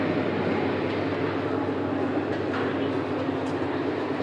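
The metre-gauge Burimari Express runs along the rails with a loud, steady rumble and a constant roar, and faint wheel clatter comes through underneath.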